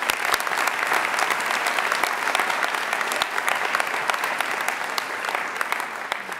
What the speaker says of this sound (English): How about another round of applause to all of our students?